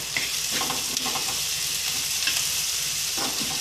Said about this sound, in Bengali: আরও 3-4 মিনিট টমেটো কুচিটা দিয়ে সিমে দিয়ে ভাজবো যতক্ষণ না টমেটো কুচিটা একটু নরম হয়